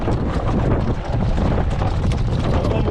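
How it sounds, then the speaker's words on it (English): A gust of wind buffets a small sailing dinghy at anchor off a lee shore, a loud broadband rushing roar over the microphone lasting the whole moment. "We're just going to let this little gust pass"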